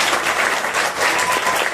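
Schoolchildren in a classroom clap together in a steady, dense burst of applause that holds at an even level for a couple of seconds, close and fairly loud, with no talking over it.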